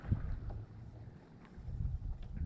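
Wind gusting across a fishing spot on a lake bank, a low rumbling buffet of air over the water and microphone that swells and eases steadily throughout, with no voices.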